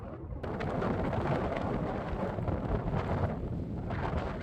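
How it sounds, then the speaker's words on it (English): Strong wind blows outdoors on a hill, roaring and buffeting steadily against the microphone as a loud, low rumble after a brief quiet moment at the start. "It's very windy"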